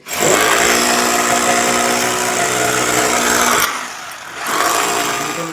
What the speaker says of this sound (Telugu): మేము డ్రిల్ మిషన్ తో అయితే వేస్తున్నాం